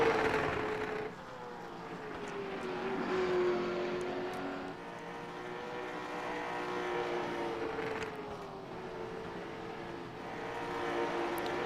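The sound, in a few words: late model stock cars racing around the track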